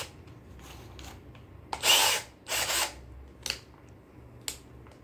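A WAP 21V cordless drill in hammer-drill mode buzzes in two short bursts with a rattling, hammering edge, followed by a few scattered clicks.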